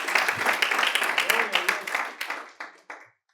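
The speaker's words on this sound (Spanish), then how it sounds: "Denle un aplauso fuerte a su Señor y su Salvador." Church congregation clapping in a broad, dense wash of applause with sharper individual claps, fading out over a few seconds; voices call out within it.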